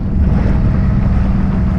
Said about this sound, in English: I'm sitting out here because the engine is on